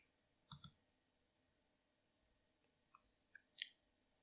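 A few sharp, quiet computer mouse clicks in a quiet room while working in Siemens TIA Portal, a pair of clicks early, then scattered lighter taps and another short cluster near the end.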